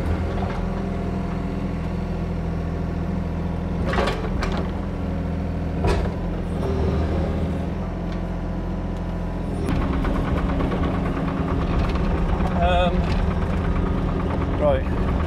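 Kubota diesel engine of a digger running steadily, a low continuous rumble and drone held close and loud throughout, with occasional clanks and a brief hiss, while people talk over it.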